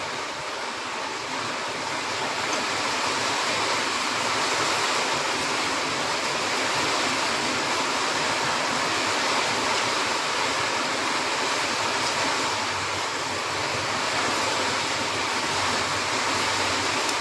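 Rain falls steadily as a dense, even hiss with no breaks or pauses. It stays at a constant level for the whole stretch, with no voices over it.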